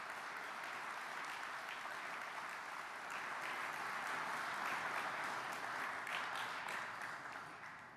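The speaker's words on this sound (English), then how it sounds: "if you could give them a round of applause" A banquet audience at an annual awards event claps in a sustained, dense round of applause that swells slightly midway and then begins to fade toward the end, heard from within the room.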